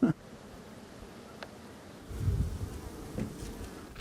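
Honey bees buzz around the hive boxes while hives are split in the bush, a soft, continuous droning hum that swells in the second half, with faint rustling nearby.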